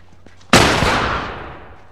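A single loud gunshot blast in The Last of Us, sudden and close, with a long booming tail that slowly fades over about a second and a half.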